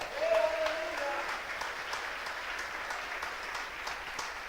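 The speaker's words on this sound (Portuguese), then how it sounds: "Você pode aplaudir o Senhor?" A church congregation applauds during a sermon, giving a fairly faint, even wash of many hands clapping at a distance, with a brief voice near the start.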